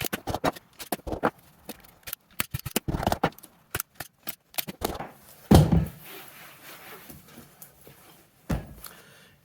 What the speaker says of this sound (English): I'll come through here with some scissors and just cut off a bunch of the excess.